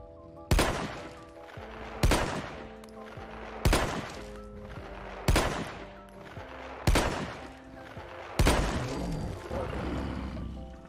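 A Wildey pistol fires .475 Wildey rounds in a modded Fallout 4 game: six loud, sharp shots at an even, unhurried pace, each followed by a short ringing decay.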